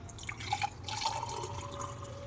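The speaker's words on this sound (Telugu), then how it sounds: "దీన్ని తీసేసుకొని హాట్ వాటర్ వేసుకోవాలి" Hot water runs and trickles steadily into a glass, with a thin rising tone as it fills, close by and fairly quiet.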